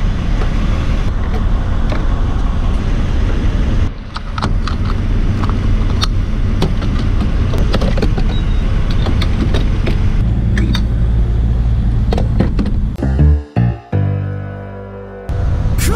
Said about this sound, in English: Oh, like that big old truck.